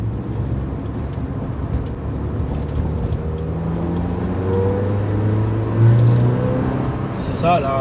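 A 1996 Peugeot 106 GTI 1.6 16-valve engine hums and swells as it accelerates, rising steadily in pitch and loudness, heard from inside with a voice talking over it.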